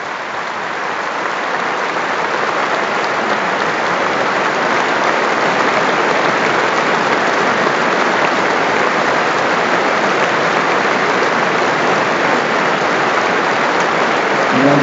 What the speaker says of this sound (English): And still the applause continues.